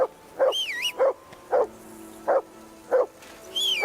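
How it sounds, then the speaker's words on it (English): Repeated close barking from a dog in the video game Kingdom Come: Deliverance II, about six sharp barks in a steady rhythm, with rising and falling whistle tones sounding over the start and end. "Whistle at that mutt of yours to stop barking!"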